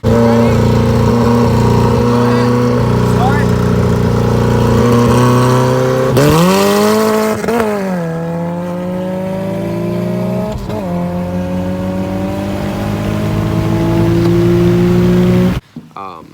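Honda CRX fitted with a nitrous kit, accelerating at the track: a loud, close engine climbs in pitch through several gear changes, with a commentator talking over it, before it cuts off abruptly at the end.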